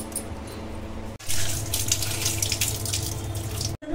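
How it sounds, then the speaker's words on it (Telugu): A tap runs steadily into a sink, water splashing close up as tamarind is rinsed under the stream, with brief breaks in the flow. "చింతపండును వాటర్ వేసి ముందుగా మంచిగా కడుక్కోవాలి"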